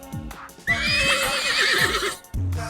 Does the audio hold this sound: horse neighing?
yes